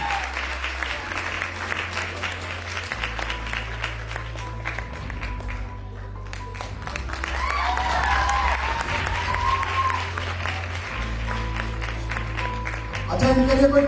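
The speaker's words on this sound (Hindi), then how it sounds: "ताली तो बजा दो अच्छे वाली।" An audience at a Women's Day celebration event breaks into sustained applause, a dense steady clapping that grows louder toward the end, with voices and music underneath.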